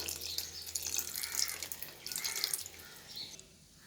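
Tamarind extract pours into a fenugreek and small-onion kuzhambu as a soft, intermittent splashing trickle of liquid. It comes in a few short bursts, close by and fairly quiet, with no talking.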